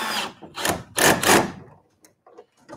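A cordless screwdriver set to its lowest torque drives a screw during electrical wiring work in a workshop, giving three loud whirring bursts followed by softer, shorter taps and clicks.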